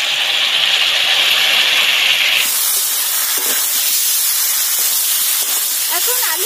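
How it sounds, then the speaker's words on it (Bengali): Lid lifted off a kadai of boiling potatoes, releasing a loud, steady hiss of escaping steam that drops to a softer sizzle and bubbling partway through. "এখন আমি কড়া ঢাকনাটা তুলে নেব"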